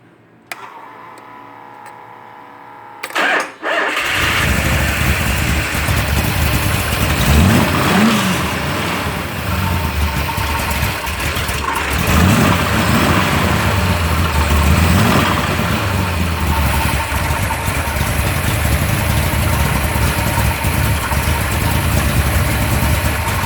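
A 1973 Mopar 360 V8 with RPM aluminum heads and a somewhat aggressive intake starts after a few seconds of quiet, then idles loud and steady with a lumpy, rough rhythm and occasional slight rises in revs.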